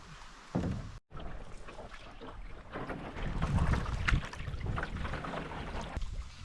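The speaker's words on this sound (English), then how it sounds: "Man, it is windy out here." Strong wind by a lake buffets the microphone in heavy, uneven gusts. It roars loudly throughout with a brief dropout, and no voices can be heard.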